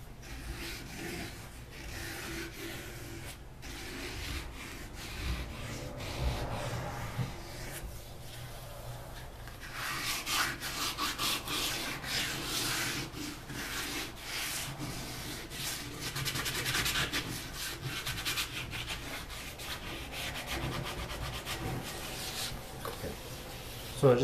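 Hand sanding a wooden Telecaster guitar body to knock off an edge: steady, close scratchy rubbing strokes in a continuous rhythm, growing brisker and fuller midway, with no talking.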